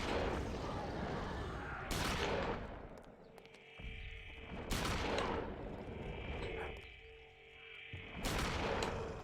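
Gunfire from the video game Eternal Darkness: three loud, booming shots spaced a few seconds apart, each with a long ringing decay, over a quiet game ambience with a faint tone between shots.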